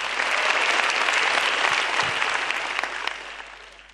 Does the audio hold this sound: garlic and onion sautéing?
no